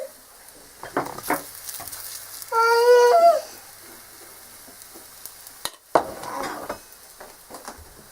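A chapati cooks in an oiled pan, a soft, steady sizzle with occasional clinks and scrapes of a utensil against the pan, close by and with no talking.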